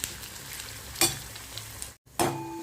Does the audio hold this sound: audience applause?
no